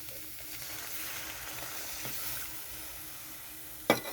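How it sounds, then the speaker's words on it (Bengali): Milk poured into fried bottle gourd in a pan for a halwa, giving a soft, quiet sizzle with a sharp burst of hissing near the end. "এখানে আমি দিয়ে দিচ্ছি দুধ"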